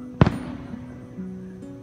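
A single firework bursts at night with one sharp, loud bang, followed by a fading rumble and a steady low hum in the background.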